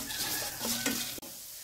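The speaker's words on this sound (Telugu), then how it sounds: "ఇవి బాగా ఫ్రై చేసుకోవాలి" A stuffing mixture for Andhra-style stuffed brinjal curry sizzles and is stirred in a frying pan, with a steady close frying hiss, scraping strokes of a utensil and a brief break near the end.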